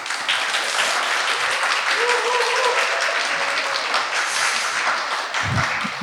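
A church congregation at a Thursday mission meeting claps steadily in a sustained wash of applause, fairly far off and even throughout.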